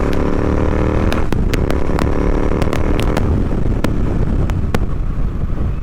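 A Royal Enfield Interceptor 650 fitted with a Red Rooster performance exhaust is ridden at speed, a loud close exhaust roar with sharp popping crackles breaking through it, buffeted by heavy wind noise.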